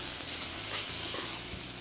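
A spiced brinjal curry with sambar powder sizzles softly and steadily in a pan as it is stirred, a faint continuous frying hiss with light scraping underneath.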